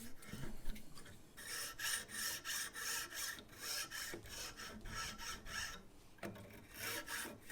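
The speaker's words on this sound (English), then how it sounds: "carefully filing it" A gut violin tailgut string is filed down by hand, close and quiet, a steady rhythmic rasping of back-and-forth strokes with a brief pause before the strokes resume.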